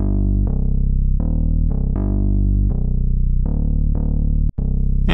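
Synthetic bass notes edited in Melodyne with the dynamics slider pushed one way, about eight sustained notes in a steady line with long, full decays, loud and alone.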